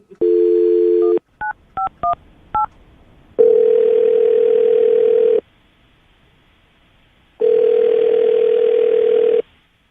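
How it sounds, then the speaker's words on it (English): A telephone number is dialed as a quick series of tones, followed by two long ringback tones separated by a pause, clear and close with no talking. "I'm going to dial his phone number right now"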